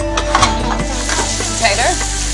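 Potatoes hit hot, popping oil in a pan, producing a loud, steady sizzle with scattered crackles and stirring scrapes close by, with no talk.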